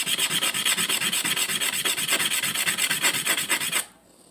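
Steady rhythmic rasping of sanding across a hard surface, close and loud, with quick repeated strokes that stop abruptly near the end.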